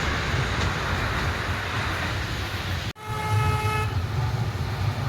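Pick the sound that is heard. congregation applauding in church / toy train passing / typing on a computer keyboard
toy train passing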